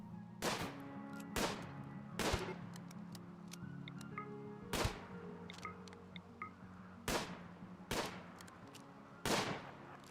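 Sharp, isolated gunshots ring out one at a time at irregular intervals, about eight cracks in total, each loud and close against a quiet background with a faint steady hum.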